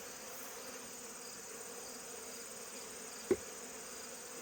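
A steady, faint drone of buzzing honey bees fills the background, with a brief soft knock near the end.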